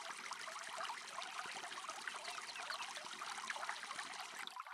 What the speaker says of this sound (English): Let's fill it up with water now.